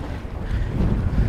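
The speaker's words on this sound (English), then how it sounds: "So, whew, and it's getting windy." Strong wind blows outdoors on open water as a cold front moves in, a steady low roaring rumble buffeting the microphone throughout, with no voices.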